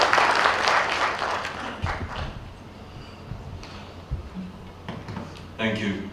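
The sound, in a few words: audience applause at a forum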